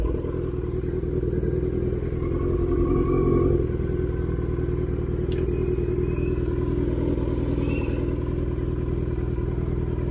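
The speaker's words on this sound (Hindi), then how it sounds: "तो एक बार बाइक को पार्क कर देते हैं" A Kawasaki Z900 motorcycle runs steadily as it is brought in to park, giving a loud, continuous close-up engine rumble with a slight swell midway and a faint clatter, with no talk.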